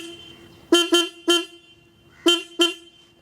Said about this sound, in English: So horn check for the Hunter 350.